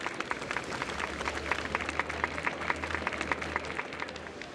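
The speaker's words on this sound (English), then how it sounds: "we invite you to express your warmest applause and deepest appreciation for OTF." An audience applauds at a festival event, brisk scattered claps standing out over a low steady hum, moderately faint and continuing throughout.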